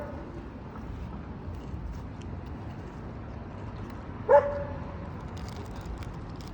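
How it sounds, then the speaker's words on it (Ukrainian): A single sharp dog bark rings out partway through, moderately close and standing alone above a quiet, steady background. "Собака кричить давай"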